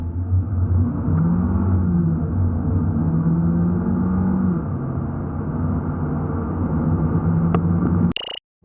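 A Chevrolet Cruze 1.4T accelerating during a timed acceleration test, a steady loud engine drone with rising pitch sweeps as it pulls through the gears, heard from inside the car, ending in a sudden click.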